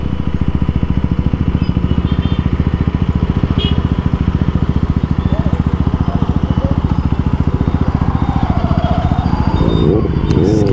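A motorcycle loaded with four riders chugs through city traffic in Hyderabad, its engine throbbing loudly and steadily up close the whole time, with faint traffic noise and a rising horn-like tone near the end.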